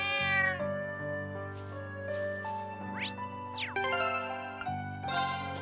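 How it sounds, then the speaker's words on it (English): A cat meows in the video game Trails of Cold Steel 2: a few soft, close meows over a steady synth music bed, with rising chime-like glints and a brief twinkle, and no talking. "Kitty."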